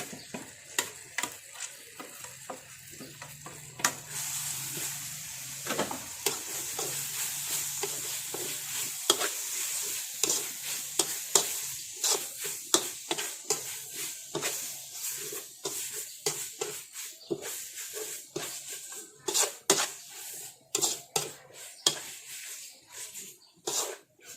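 Giant catfish stir-fried with red curry paste in a pan, a long stretch of steady sizzling with dense, rhythmic scraping and clattering of a spatula that grows busier toward the end.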